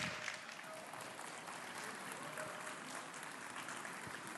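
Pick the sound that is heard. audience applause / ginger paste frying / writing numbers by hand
audience applause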